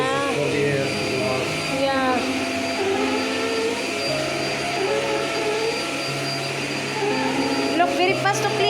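A Potli Forzaspira vacuum cleaner runs with a continuous loud whirring drone throughout, while people talk over it.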